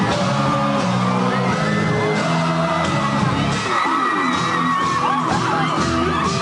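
A large crowd of over 5,000 New Kids on the Block fans cheers, shouts and whoops at an outdoor plaza in pouring rain, a loud, continuous roar with scattered screams throughout.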